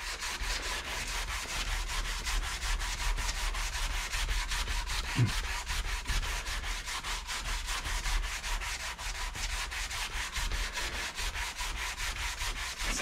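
Abrasive paper rubbing steadily along the wooden neck of an electric guitar as a chunky baseball-bat profile is thinned, a continuous close, even scratchy hiss with no talking.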